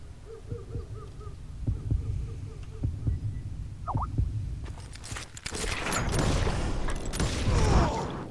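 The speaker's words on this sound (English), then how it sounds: "You hear the heartbeat, you can draw your gun first" Slow, steady heartbeat thumps during a duel in the video game Call of Juarez: Gunslinger, beating alone over a low hum before louder, dense game noise swells up in the final seconds.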